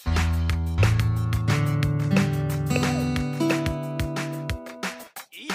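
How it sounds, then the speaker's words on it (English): Nintendo Labo Toy-Con Garage touch nodes play guitar-like electronic notes in a quick sequence of overlapping sustained tones, with tapping clicks between them, fading out at the end. "When we touch the note, yeah, that sounds like a guitar."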